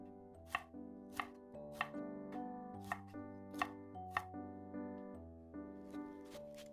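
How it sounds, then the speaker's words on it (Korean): A knife julienning halves of red and yellow paprika on a cutting board, about nine crisp, evenly spaced chops over a soft musical background, no speech. "색깔 예쁜 빨간 파프리카, 노란 파프리카는 각각 반 개씩만 채 썰어서 준비해주세요."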